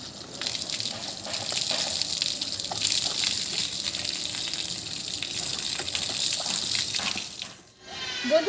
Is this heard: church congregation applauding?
no